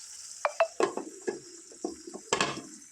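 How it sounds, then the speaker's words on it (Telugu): Stuffed brinjals frying in a pan as a spatula turns them. Sharp metallic clinks and scrapes come in an irregular run over a quiet sizzle, close up and with no talk. "వీటిని చక్కగా ఇలా తిప్పేసుకుందాం ఒక్కసారి కలుపుకుందాం"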